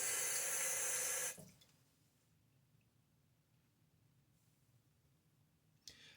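A tap runs loud and full as a Gillette Nacet-bladed Timeless 68 razor is rinsed. The water stops after about a second, and faint small clicks follow in near silence.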